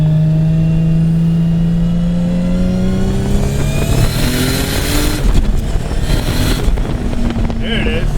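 A straight-piped 750HP Nissan R32 Skyline GT-R with a sequential gearbox, its engine rising in pitch as it accelerates through short-shifted gears, loud and close inside the car with wind roar.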